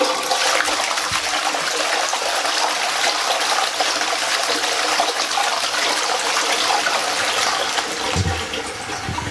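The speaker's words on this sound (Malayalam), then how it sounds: "അതിനുശേഷം നമുക്ക് ഫ്ലഷ് ചെയ്യാം." A toilet flushes after white vinegar has been poured into its opened cistern for cleaning, giving a loud, steady rush of gushing water that runs the whole time and eases slightly near the end.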